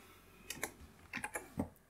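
Typing on a computer keyboard while entering bash commands: a quiet, close run of separate clicky keystrokes in two short bursts, with no talking.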